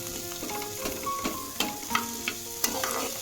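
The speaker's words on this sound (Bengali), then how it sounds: "কাঁচা লঙ্কা। এগুলো জাস্ট 1 মিনিট মতো ভেজে নেব।" Green chillies and onion frying in a pan for swan egg korma, a steady close sizzle with several sharp scraping stirs and clinks spread through, no voices.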